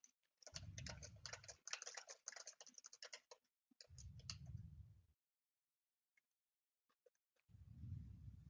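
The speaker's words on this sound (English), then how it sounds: "I see people typing." Rapid clattering keystrokes on a computer keyboard during an online training workshop, in two bursts of steady typing with soft low thuds, then a quiet gap with a few isolated clicks before more thudding returns.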